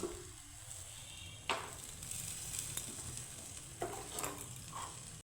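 Pitha sweets fry in hot oil, giving a soft continuous sizzle and bubbling with a few sharper clinks and scrapes as pieces are lifted out, fairly quiet and with no talk.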